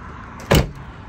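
The rear liftgate of a 2004 Ford is lifted open, producing a single brief thunk-like clunk of the door mechanism, close and clear against a quiet background.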